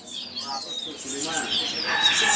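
Birds chirp and whistle at a bird market kiosk in Pasar Pramuka, Indonesia, where local East Java songbirds are sold. Several overlapping tweets and trills sound close by and grow louder toward the end, with faint background chatter.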